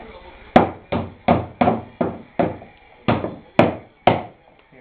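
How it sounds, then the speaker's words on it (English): Hammer blows driving a nail into a wooden bird house, about nine sharp, close knocks at an uneven, steady pace, each ringing briefly with no talk over them. "Let Daddy hammer this one in."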